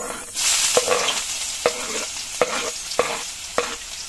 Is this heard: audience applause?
no